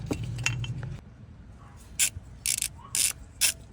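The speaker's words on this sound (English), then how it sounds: "it's the last few threads holding this tensioner pulley in place" A socket ratchet clicks in short bursts as the tensioner pulley bolt is backed out of a Cummins ISX truck engine, with a few metallic clinks between the close, sharp ratcheting runs.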